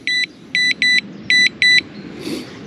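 A carp fishing bite alarm on a rod set by snags in spring gives five short, clear electronic beeps in an uneven rhythm as it is switched on, close by over a low outdoor rumble.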